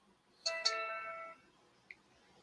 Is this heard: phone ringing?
yes